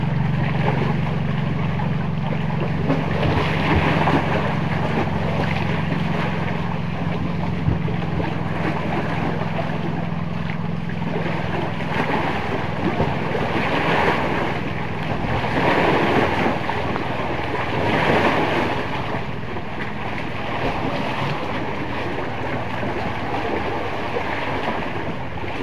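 Strong wind and crashing waves at sea during Typhoon Paolo, a loud continuous roar with surges of surf and heavy wind buffeting against the microphone, alone without talk.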